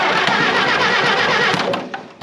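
Case tractor engine cranking over on a booster pack, a loud, continuous churning turnover that runs steadily for about two seconds before easing off.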